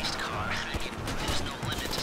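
Rapid bursts of gunfire in Grand Theft Auto V during setup for the Fleeca Job heist, sharp repeated shots over ongoing game noise with a voice speaking beneath.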